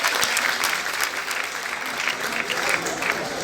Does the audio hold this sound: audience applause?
yes